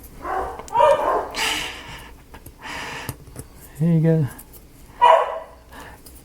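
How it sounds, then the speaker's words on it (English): A neighbor's dog barks outdoors, heard through open windows as a few distant, muffled barks spaced apart, with someone talking quietly nearby. "they're hearing the neighbor's dog talk"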